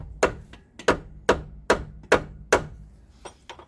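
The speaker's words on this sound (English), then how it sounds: "Just a lot of wiggling and tapping it with the rubber mallet" A rubber mallet tapping a polyurethane bush into a wishbone on a Mondeo Mk3 ST220: about seven dull, thudding knocks at a steady, unhurried pace, close by, ending with a couple of lighter taps.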